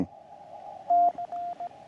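CQ call in Morse code sent from a QMX radio transceiver on 14.065 MHz, a steady carrier tone breaking into short and long beeps in quick succession, clear and close.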